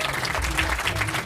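Brief burst of audience applause for cocktail competition winners at a live show, a dense crowd clapping loudly and evenly in a short wash of sound.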